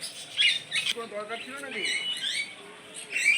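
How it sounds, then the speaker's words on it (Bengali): Small birds squawk and chirp in shrill bursts nearby, with a busy, chattering quality and brief quiet gaps between calls. "লাভ বার্ড বলো, লাভ বার্ড।"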